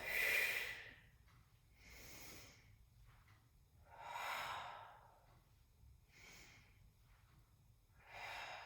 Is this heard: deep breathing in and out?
yes